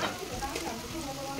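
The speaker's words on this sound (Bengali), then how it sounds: "এবার টমেটো কুচি শুধু কড়াই দিয়ে দেবো।" Chopped tomatoes hit a hot kadai after browned onions, giving a short, soft, close sizzle and hiss that holds steadily through a brief moment.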